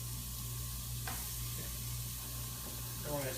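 Turkey meatballs sizzle steadily in a frying pan with a constant close hiss, broken by a couple of brief clinks near the end and no talking.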